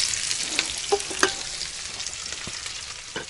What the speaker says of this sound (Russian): Картошка продолжает жариться.